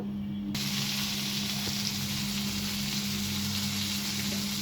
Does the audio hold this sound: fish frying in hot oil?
yes